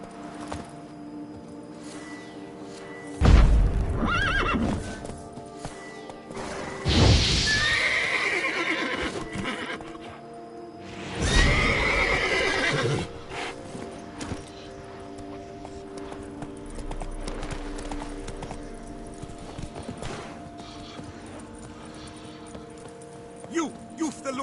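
Geralt's horse Roach in the Witcher 3 video game, giving several loud neighs and whinnies over clip-clopping hooves, with a voice speaking and ambient game sounds between calls.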